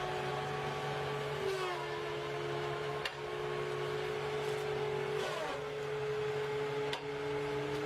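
A farm machine cutting through trees gives off a continuous, fairly quiet engine drone whose pitch rises and falls as it works, broken by a couple of sharp cracks.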